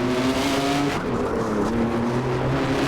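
A race car engine in the rFactor driving game on the Hungaroring circuit holds a loud, steady high-pitched drone that shifts pitch slightly through the gears, with no one talking.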